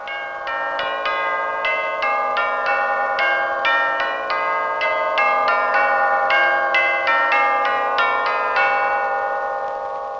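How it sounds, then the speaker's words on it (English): Tubular bells struck on the top caps with a rawhide mallet ring out a melodic sequence of clear tones, each strike bright and resonant, with long shimmering sustain overlapping into the next. "The chimes, or tubular bells, have a full cathedral-like sound produced by striking the small caps at the top"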